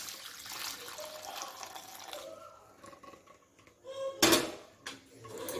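Water from boiled chickpeas pours out of a pot in a kitchen, a soft steady trickle with light clinks of metal cookware, then a brief louder splash near the end, with no talk.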